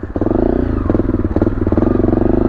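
A Honda CRF250L dual sport motorcycle on dual sport tyres runs close by, its single-cylinder engine chugging in a rapid, lumpy idle with a slight blip partway through, loud and with no voices.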